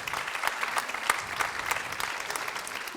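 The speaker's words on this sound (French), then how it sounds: "Donc on peut aussi les applaudir." Audience applause at the closing speech of an herbal gathering, a dense steady patter of many hands clapping together, moderately loud and continuous throughout.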